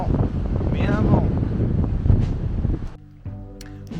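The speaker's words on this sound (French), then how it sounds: "Il y a toujours un vent, mais un vent." Strong wind buffets the microphone on the Normandy coast as a steady roar beneath a person talking, easing near the end.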